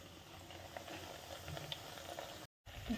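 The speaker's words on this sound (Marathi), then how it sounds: "इथं तेल ठेवलं गरम करायला वड्या सोडून घातल्या चार ते पाच" Coriander vadi, four to five cut pieces, fry in hot oil, giving a steady, fairly faint sizzle and bubbling hiss that runs throughout with a brief dropout near the end.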